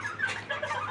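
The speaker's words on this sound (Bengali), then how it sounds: "এই যে আরেকটা মুরগি" Malaysian Serama, a tiny chicken breed, gives short, soft clucking calls close by, a brief murmur of bird voice with no talking.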